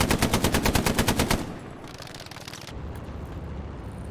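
Machine gun hip fire in a realistic shooter game, a fast, loud burst of about a dozen evenly spaced shots, then a rumbling echo and distant battlefield noise.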